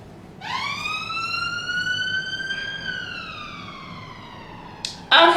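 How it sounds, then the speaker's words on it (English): A single rising-and-falling ambulance siren wail sweeps clearly across the clip, fading slightly before a sharp burst of noise cuts in at the end. "not the police, it's ambulance"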